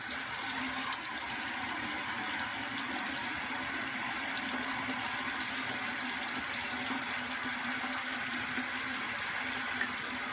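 Steady rush of tap water running into a sink during a shave, a constant broadband flow lasting the whole stretch with no talking.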